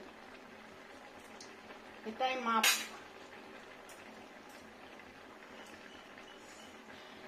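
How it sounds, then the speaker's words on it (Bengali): A pot of okra and potato curry bubbles and simmers steadily, with a brief clatter of cookware near the middle and a voice speaking over it. "কি সুন্দর ফুটছে না?"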